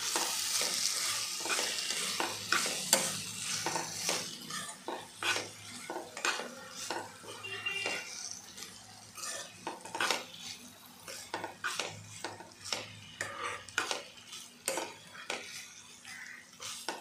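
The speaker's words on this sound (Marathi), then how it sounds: "आता आपण याच्यामध्ये राईस टाकूया." Rice is stirred into a sizzling tomato mixture in a pan for tomato rice. A spoon scrapes and knocks against the pan in repeated strokes over a soft frying crackle, and no one speaks.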